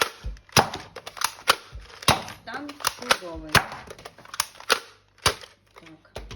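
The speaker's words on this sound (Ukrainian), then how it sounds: "магазин, заряджається і вистріл. Стріляє потужно" Sharp, loud toy blaster shots fire in a quick irregular series, about a dozen snaps with a mechanical clatter between them, with brief talk near the end.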